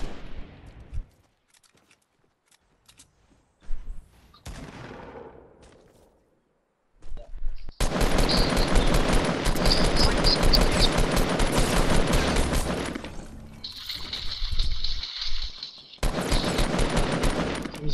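Fortnite Battle Royale gunfire fills the second half as dense, loud rapid bursts of automatic shots, following sparse earlier pops and short gaps, with no talk over it.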